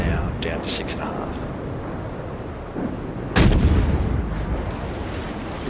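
Naval guns on a Cleveland-class cruiser in a warship video game boom through a dense rumbling battle din, with one loud blast standing out midway, while someone talks over the gunfire.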